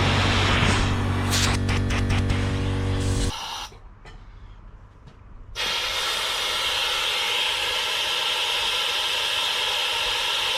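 Loud, broad hissing rush of air through a vacuum pump hose during a Range Rover Evoque service, cutting out for a couple of seconds before resuming steady and strong.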